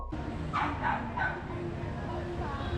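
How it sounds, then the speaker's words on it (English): A dog barks three times in quick succession on a street in Hanoi, somewhat distant over a low background hum, then the street noise continues. "That dog sounds like he's low-key dying."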